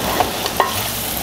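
A spoon stirs chili powder into a milk and drumstick curry in a sizzling pan, giving soft scraping strokes over a steady frying hiss, close and brief.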